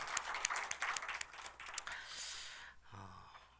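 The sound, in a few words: church congregation applause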